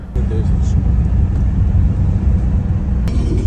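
Car driving along a road toward a farm, heard from inside as a steady low engine and road rumble throughout, with a voice talking over it.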